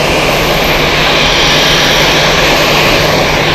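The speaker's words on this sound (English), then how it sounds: "We've got Helvetic E190 also taking off very soon." A Helvetic Embraer E190 jet takes off at Zurich Airport, and its engines give a loud, close, continuous roar that fills the whole moment.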